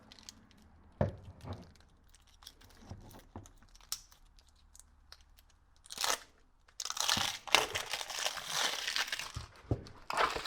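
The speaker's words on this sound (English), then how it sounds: "Take it out of the wrapping" Plastic wrapping crinkles and crunches as a Kobalt 24V 3/8-inch right angle impact wrench is pulled free, starting with scattered soft rustles and building into dense, loud crackling bursts toward the end.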